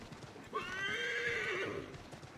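A horse whinnies in Assassin's Creed 3, a rising then falling neigh lasting about a second over steady hoofbeats and background game sound.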